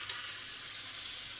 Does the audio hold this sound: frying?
yes